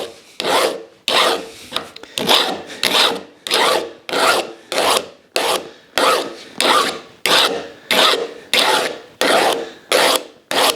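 Hand beveling of a wooden tapered reamer blank for Windsor chair making: a rasp or file works the wood in about a dozen loud, close, rhythmic strokes, each rough scrape separated by a brief pause.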